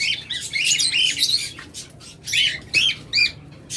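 A pair of cockatiels calling at close range, bursts of shrill chirps and squawks in quick irregular runs with short pauses between, loud against a quiet background.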